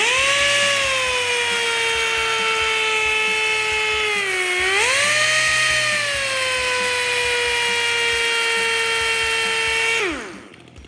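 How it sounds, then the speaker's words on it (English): A polishing wheel buffs a metal motorcycle part with a loud, steady high-pitched whine that dips briefly in pitch under load, then spins down to a stop at the end. "we'll put it over on the polishing wheel"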